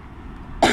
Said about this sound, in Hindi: खांसी हो गई है